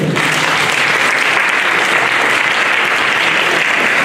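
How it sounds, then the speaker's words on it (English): Loud, dense applause from the audience at a Chinese American WWII veterans' ceremony in Fresno, continuous and even from start to finish. "let's give a round of applause for Hubert"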